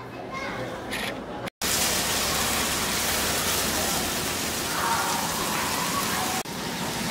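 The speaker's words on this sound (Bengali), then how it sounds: "এখানে আছে সজনা, সাজনা যেটা হোক, পেঁপে, সিম, আলু, কাঁচা কলা আর গাজর দিয়ে আমি এগুলোকে একটু ভেজে নিব" Drumstick, papaya, beans, potato, green banana and carrot fry in a pan with a loud, dense, steady sizzle after a brief quiet gap, with the hiss continuing to the end.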